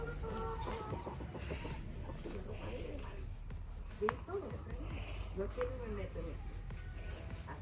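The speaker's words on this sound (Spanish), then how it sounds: "Aquí está explorando y conociendo a las gallinas." Farm chickens in rural El Salvador cluck in scattered bursts nearby, with a rooster-like call now and then, over a steady low background rumble and soft talk.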